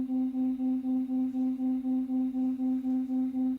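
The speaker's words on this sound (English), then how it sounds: "what you were hearing is two frequencies that were about 4 hertz apart" Two steady tones about 4 hertz apart combine into a single held pitch that swells and fades in a regular fast pulse, around a dozen even throbs before stopping abruptly.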